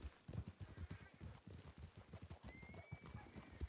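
Horse hooves clip-clop in a rapid, steady rhythm in a video game, close and clear with a brief snort or whinny mixed in, no talk.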